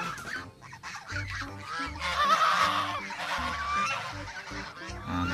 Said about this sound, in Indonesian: ini ternyata ada angsa warnanya warna putih